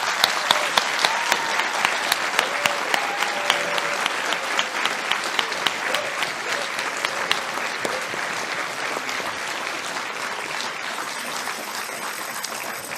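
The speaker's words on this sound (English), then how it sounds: "Could you give her a round of applause, please?" Sustained audience applause at a Modern Money and Green New Deal talk, many hands clapping densely and loudly for about thirteen seconds, with a few louder claps near the start and no talk over it.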